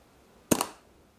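A single sharp pop from a red Karnivor MQ2 paintball marker with an E2 board, close and crisp with a brief decay in an otherwise quiet space.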